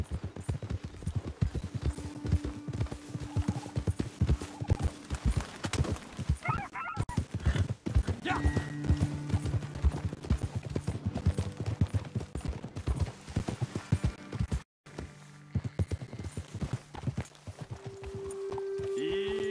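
Horses' hooves clip-clop in a steady rhythm across a dusty trail in Red Dead Redemption 2, close and persistent beside a few tonal calls and faint sounds from the game.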